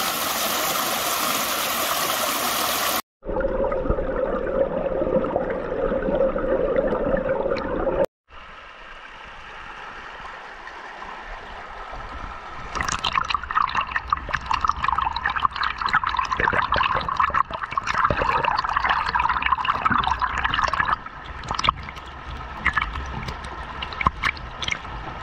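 Creek water flowing over bedrock in West Virginia, a steady rushing and babbling stream that swells louder in the second half, close and continuous with no voices.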